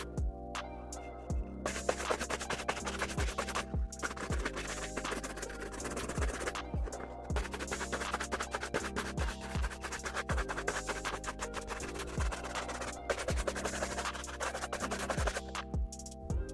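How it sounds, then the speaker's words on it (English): A brush scrubs leather Timberland boots in quick, repeated strokes, a steady close scratching rhythm that runs alone without talk for over fifteen seconds. "every time you apply something to the leather, you need to brush it a little"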